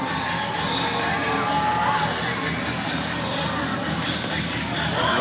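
A baseball stadium crowd at Fenway South, a Red Sox spring training ballpark, roars steadily during a Banana Ball game between the Savannah Bananas and the Party Animals, a dense sustained wash of cheering throughout.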